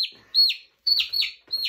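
Newly bought young chicks, already feathered with still-fuzzy heads, give high, bright peeping chirps in short bursts, several overlapping calls close by with brief pauses between them.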